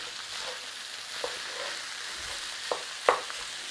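Jalapenos and capsicum peppers sizzle steadily in a hot pan, with a few light stirring clatters and scrapes standing out over the continuous frying hiss.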